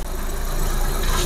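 A car engine idles for a moment during a used-car inspection with the oil cap checked, a steady close mechanical hum with a low rhythmic throb.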